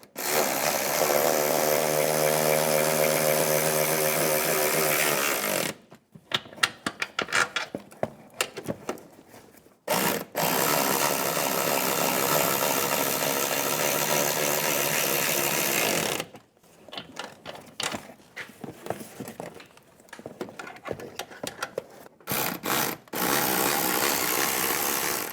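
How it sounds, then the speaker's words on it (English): A power tool with a 15mm socket tightens the top shock nuts on a 2007–2014 Cadillac Escalade ESV. Long, loud, steady whirring runs alternate with choppy stop-start bursts, each burst close and harsh. "Now we'll tighten the top ones using a 15mm socket."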